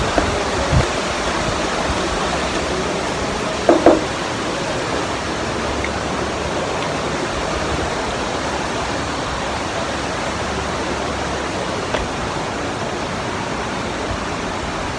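The Sungai Jodo river, a shaded picnic spot, flows in a steady, broadband rush of water that stays loud and unchanging, with a couple of faint knocks and no voices.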